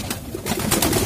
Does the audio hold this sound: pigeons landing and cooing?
yes